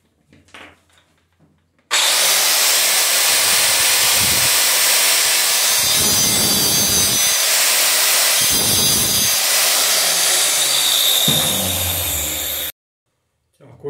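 A power saw cuts through a piece of PVC pipe in one loud, continuous burst of about eleven seconds, with brief rises and dips in pitch as the blade works, then stops abruptly.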